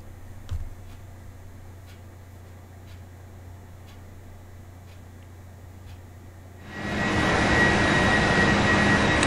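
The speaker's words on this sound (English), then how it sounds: "Okay, we're airborne out of Seattle now, and we've just retracted the flaps." A PMDG Boeing 747-400 flight simulator plays cockpit ambience after takeoff from Seattle, with a quiet hum and faint regular ticks that give way abruptly to a loud, broadband jet engine roar.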